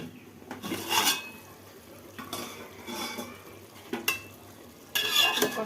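A pot lid comes off with metallic clanks, then masala chicken is stirred with a utensil in several bursts of scraping and clattering over a low, steady sizzle.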